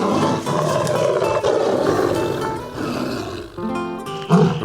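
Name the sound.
400-pound tiger roaring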